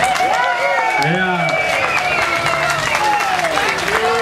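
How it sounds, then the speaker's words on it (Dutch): Concert crowd at a live rock show in Bergen applauding the drummer, steady clapping and cheering under a loud sustained musical tone with gliding pitches, and a voice speaking briefly. "Geef nog één keer een super applaus."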